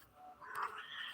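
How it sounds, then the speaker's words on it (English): A house cat gives a single rising and falling meow of about a second, faint and close, with no talking over it. "That's what my cat says."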